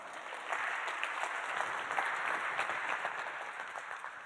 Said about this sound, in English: Liz, I'd like a round of applause for Liz as our CX rock star